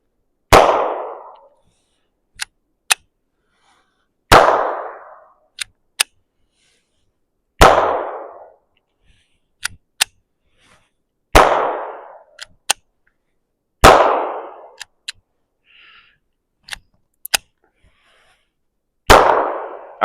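CCI shot shells fired one at a time from a Taurus TX22 pistol, six loud, sharp reports spaced a few seconds apart, each ringing out briefly, with small metallic clicks and clatters of handling between shots.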